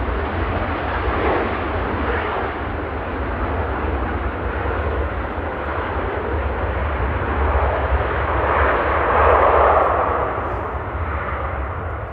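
A jet on approach to Manchester Airport roars loudly and continuously, swelling as it passes close overhead, with no voices.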